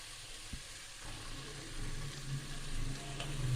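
Vegetables sizzling softly in a pan while a spoon scrapes and stirs them, low and steady with occasional faint clicks, no voices.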